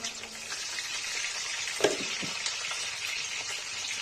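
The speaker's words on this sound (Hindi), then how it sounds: "ये बैगन फ्राई हो गया" Eggplant frying in hot oil in a pan for a Kashmiri lal saag dish, a steady close sizzle with a couple of brief stirring clinks.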